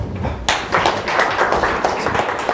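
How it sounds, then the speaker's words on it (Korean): An audience at a Korean startup seminar on expanding into Silicon Valley claps to welcome a speaker, a sudden burst of many hands that starts after a brief murmur and carries on briskly and close. "박수로 환영 부탁드립니다."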